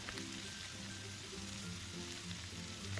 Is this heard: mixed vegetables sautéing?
yes